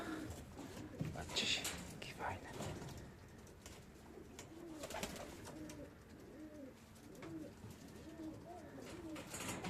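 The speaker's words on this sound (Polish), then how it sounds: "Piękne gołębie." Pigeons coo in a loft, soft rolling coos repeating in a steady series with a few wing flutters, all quite faint while a person talks over them.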